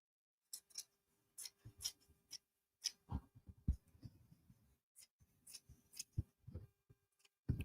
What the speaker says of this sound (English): So just trimming off the excess here